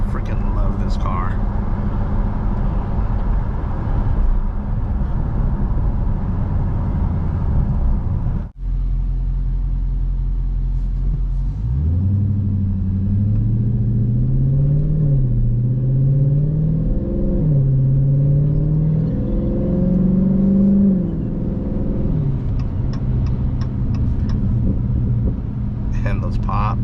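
A 2022 Dodge Challenger R/T fitted with a Borla ATAK cat-back exhaust rumbles at idle, then revs in rising and falling waves with pops. The sound is loud and close, with low talk over it.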